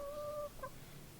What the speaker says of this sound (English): I just don't know about these chickens.